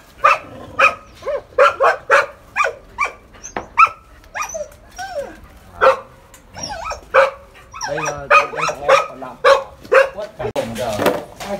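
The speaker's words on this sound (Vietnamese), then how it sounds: "Mấy con chó này." Several dogs bark in sharp, repeated bursts, loud and close, some yips mixed in, with brief talk in between on the grounds of an orchid garden.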